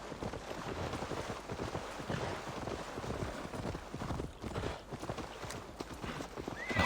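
A horse in Assassin's Creed Valhalla gallops with rapid rhythmic hoofbeats that run continuously, close and steady, with a brief whinny near the end.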